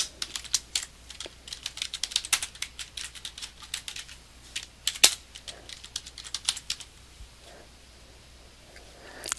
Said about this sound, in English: I'm going to type in North Carolina in quotation marks and the word hiking